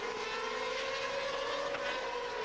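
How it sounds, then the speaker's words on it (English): A GP2 race car with an 8-into-1 exhaust at a race in Turkey, a sustained high, buzzing engine wail holding a steady pitch with a slight rise, loud and continuous. "That distinctive 8-into-1 exhaust system gives these cars that interesting note."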